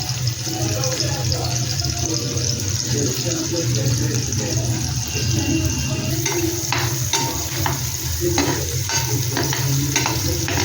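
Vertically sliced onion sautéing in hot oil in a kadhai, a steady close sizzle with scraping stirs growing more frequent later on, no voices.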